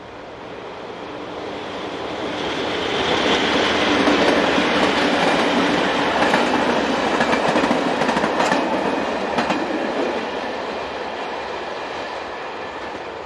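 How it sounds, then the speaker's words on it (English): An EFW-owned locomotive hauls an engineers' train through Switzerland, its rumble and wheel clatter swelling as it nears and passes, then easing off, steady and fairly loud with no voices. "This loco belongs to EFW, a company set up by German rail fans, and is used on rail tours throughout the year, as well as earning its keep on engineers' trains"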